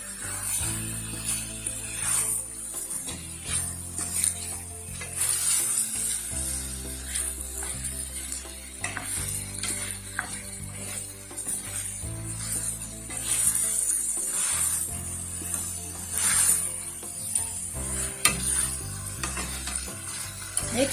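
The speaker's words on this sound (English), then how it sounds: "And give them a good stir." Chicken biryani ingredients sizzling in a pan while being stirred, a soft continuous hiss broken by repeated scraping strokes of the spoon at irregular intervals, moderately close and without talk.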